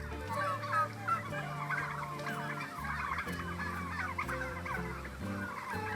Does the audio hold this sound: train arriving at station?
no